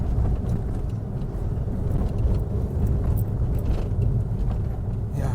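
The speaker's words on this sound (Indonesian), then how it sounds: "ini jalannya mungkin outer ring road ya, truk-truk besar di sini" Steady, loud road traffic on an outer ring road between Malang and Kediri in East Java, with large trucks rumbling past in a continuous low engine drone and no voices.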